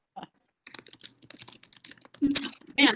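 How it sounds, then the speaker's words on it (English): Rapid typing on a computer keyboard picked up during a group call, a quick run of close, clicky keystrokes that grows louder and denser toward the end, with no talking. "Someone's typing something serious on their computer."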